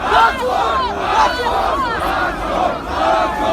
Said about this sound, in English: Russian police detained anti-corruption protesters in central Moscow to cries of "shame, shame" from the crowds